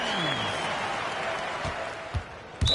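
Basketball arena crowd applauding a player after a road win, a broad steady wash of clapping and crowd noise heard at a distance, with a few louder thumps near the end.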